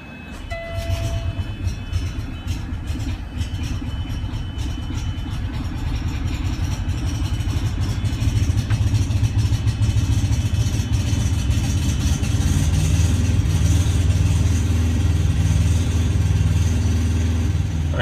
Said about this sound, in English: When you hear the buzzard, that means the system's priming, and also to warn other people that the APU is about to start.